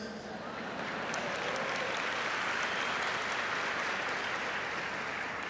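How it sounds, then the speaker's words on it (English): An audience at a marketing talk by Gary Vaynerchuk claps for its under-35 members: a dense, steady wash of applause from many hands, running the whole stretch at moderate loudness with no voices on top. "let's clap it up for all these young fuckers"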